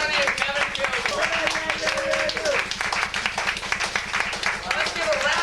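Audience applause at an improv jam performance, a steady wash of many hands clapping that fills the whole stretch while a voice talks over it.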